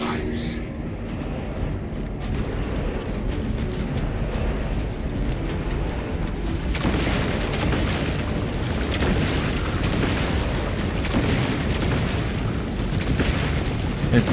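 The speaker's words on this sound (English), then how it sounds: "The Titan launches its missiles" A Titan launching missiles in the Space Marine 2 game sets off a sustained wash of booming explosions and rumbling eruptions, heavy and continuous, with voices talking over the barrage.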